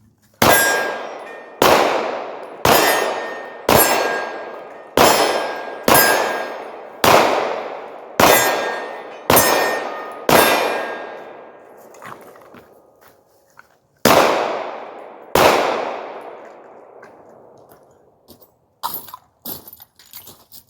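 Handgun fired one-handed while moving, about a dozen sharp close shots in a steady rhythm, each followed by a ringing clang from steel targets, with a short pause midway and scattered faint clatter at the end.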